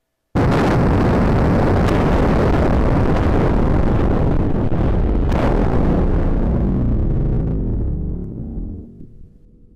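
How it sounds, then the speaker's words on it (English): A nuclear explosion roars as one huge, loud, sustained rumbling blast that starts abruptly, holds for several seconds and then fades slowly away, with no voices. "This is a nuclear explosion."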